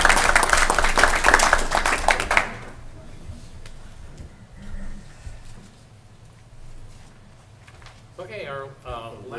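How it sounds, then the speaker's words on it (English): An audience at a Board of Regents meeting claps for a couple of seconds in a dense burst of applause, which stops abruptly and gives way to quiet room noise and a person speaking. "You can applaud him if you want."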